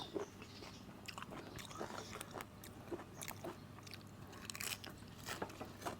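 Close, crisp crunching and biting as hard coconut flesh is chewed, with irregular bursts of crackly mastication and no talking.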